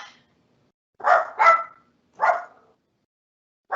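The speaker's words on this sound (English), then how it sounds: "Amy, my dog, disagrees" A dog barks three times in quick succession, loud and close, with clear silent gaps and a fourth bark starting right at the end.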